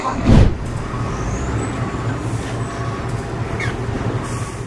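A freight train runs along an Indonesian logistics railway line from Tanjung Perak port in Surabaya to Jakarta, a steady rumble and rattle of wagons with a louder whoosh at the start.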